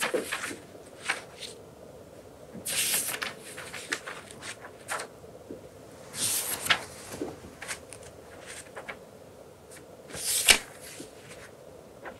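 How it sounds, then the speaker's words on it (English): Sheets of light paper are handled in an artists' book studio, giving soft rustles and crinkles with three louder bursts of crisp handling spread over several seconds in a quiet room. "And the lighter paper makes a sound."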